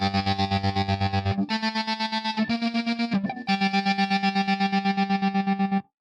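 Sustained synth music stems run through a ripsaw tremolo effect, giving a fast, choppy pulsing buzz to several held chords that change every second or so, loud and up front.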